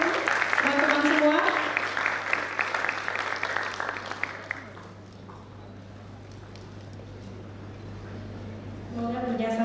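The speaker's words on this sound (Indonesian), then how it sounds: "Boleh beri tepuk tangannya kepada teman-teman semua." Audience applause at a Pelindo III campus event at Universitas Trisakti, a dense burst of clapping under a speaker's voice that fades after a few seconds, leaving quieter room noise before talk resumes.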